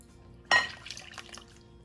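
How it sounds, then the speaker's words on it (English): Wet pancake batter ingredients are poured into a bowl of dry ingredients for maple and brown sugar pancakes, giving a sudden close splash followed by softer liquid trickles and drips, with no talking. "So now we're going to pour the wet ingredients into the dry ingredients."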